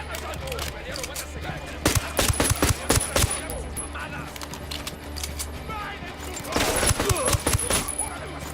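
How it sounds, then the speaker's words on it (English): Gunshots in the Ghost Recon Wildlands video game: clusters of sharp rapid shots in two flurries over a steady background bed, with a voice talking around them. "Shooting these fuckers."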